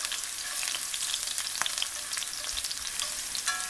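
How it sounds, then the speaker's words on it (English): Garlic and halved red chilies sizzle steadily in hot oil in a pan, a dense crackling fry with occasional sharp pops and light stirring, heard alone without talk. "You sweat and saute this till it gets that golden brown color and flavors the entire"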